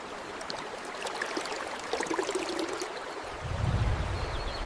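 A flowing freshwater stream in the Alaskan wilderness, steady soft babbling and trickling heard alone, with a louder low gurgling surge toward the end.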